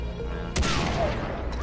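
Gunfire in the video game Far Cry 3 Blood Dragon: a sudden loud burst of shots ringing out over a low steady game soundscape, followed by a decaying rumble and a second faint crack near the end.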